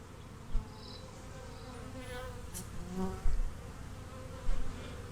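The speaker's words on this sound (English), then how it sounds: "Oh, I can hear them buzzing all over me." A steady, close buzzing of many bees fills the clip, with a few soft knocks and rustles on top.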